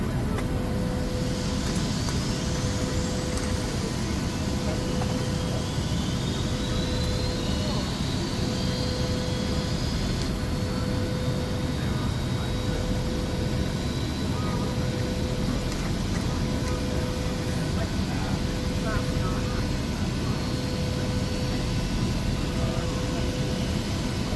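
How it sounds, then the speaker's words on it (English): An airliner's second engine starting up in the X-Plane 11 flight simulator on a Boston to Orlando flight. It makes a steady, loud turbine roar and hiss with a faint rising whine, continuous throughout, while air traffic control radio chatter plays underneath. "Starting engine 2."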